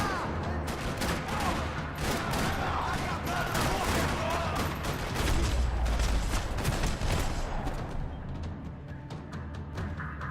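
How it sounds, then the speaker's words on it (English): Sustained gunfire rattles through a parking lot in Max Payne 3, dense overlapping shots and bursts in a continuous loud barrage with a deep rumble underneath. "Another parking lot rattling with gunfire."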